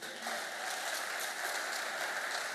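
A church congregation applauding and cheering in a steady, dense roar of clapping that fills the space from start to finish.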